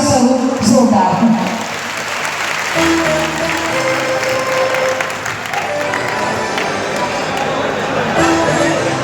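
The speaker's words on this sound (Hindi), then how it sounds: "तालियां आपकी ओर से स्वागत स्वरूप जोरदार।" An audience at an awards ceremony applauds to welcome the state governor, sustained dense clapping that continues steadily while a voice speaks over it.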